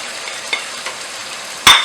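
Black pepper, cumin and kalonji seeds frying in a pan with oil, a soft steady sizzle with light stirring taps, then a sharp louder burst of sizzle near the end.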